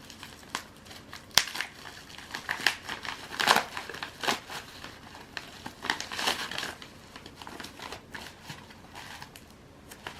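A folded-over mail package holding a Pokemon card is opened by hand, giving close, steady crinkling and crumpling of paper and plastic with irregular sharp rustles and tearing bursts throughout, with no talking.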